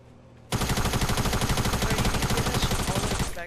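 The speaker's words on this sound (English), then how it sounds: "I shot him down." Automatic gunfire in the Fortnite video game, a loud, rapid burst of shots that starts abruptly and keeps up a steady stream for about three seconds.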